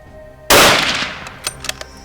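A rifle fires once at a giant eland during a hunt: a single loud, sharp blast up close, followed by a fading rolling echo and a few faint clicks or rustles, with no voices.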